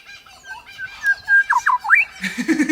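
Birds in Australia squawk and whistle nearby in a lively, uneven burst of sharp sliding calls, then a run of rapid harsh chatter.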